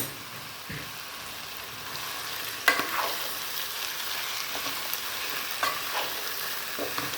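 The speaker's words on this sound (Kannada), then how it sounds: "ಸ್ವಲ್ಪ ಚೆನ್ನಾಗಿ ಉರಿಬೇಕು, ಎಣ್ಣೆಯಲ್ಲಿ ಉರಿಬೇಕಿದು" Beans and cabbage frying in oil for a South Indian palya, a steady soft sizzle with scraping stirs and occasional sharper crackles, close and alone without talk.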